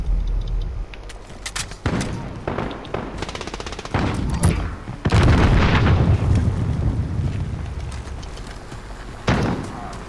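Explosions and gunfire from a Call of Duty: Modern Warfare multiplayer match come in sharp bursts. The loudest blast lands mid-clip and fades into a rolling rumble, with further scattered booms after it.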